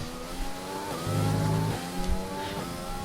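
Race car engine on a hot lap around the Russia circuit in a racing video game, revving steadily through gear changes with rising and falling pitch, loud and continuous.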